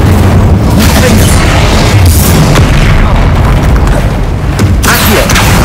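Fiery Incendio spell bursts from the video game Hogwarts Legacy roar continuously and loudly amid booming combat effects, with a voice faintly heard under the din.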